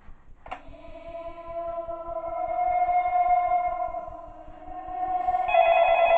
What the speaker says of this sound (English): Okay, we get a phone call